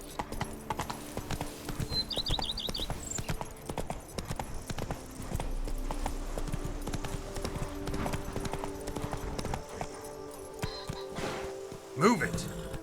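Horse hooves gallop with a steady, rhythmic clip-clop in The Witcher 3 video game. A brief whinny rises near the end.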